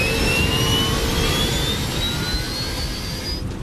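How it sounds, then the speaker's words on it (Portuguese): A jet airliner, Northwest flight 255, roars down runway 3C on its takeoff run, with a loud, continuous, close engine rumble and rising whine. "O voo 255 corre pela pista 3C."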